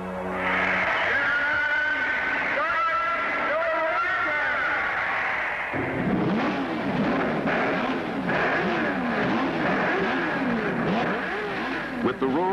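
Powerful race car engines roar past on a gray, dry track, a loud continuous drone with repeated rising and falling passes as cars sweep by, with a voice speaking over the noise.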